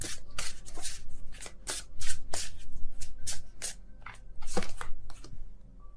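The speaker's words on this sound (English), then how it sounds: "I don't look at the deck while I shuffle." A deck of tarot cards is shuffled by hand, giving repeated crisp riffling and slapping bursts in an uneven rhythm, close and moderately loud, with no talking.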